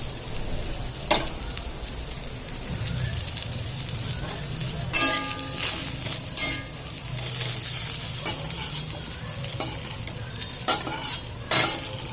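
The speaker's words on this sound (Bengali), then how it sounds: "কাঁচা থাকলো না ফুলকপিগুলো, এটা হালকা মৃদু ভাজা হয়ে গেল" Cauliflower florets fry in oil in a pan, a loud close sizzle throughout, broken by repeated metallic clanks and scrapes of a utensil against the pan, with no voices.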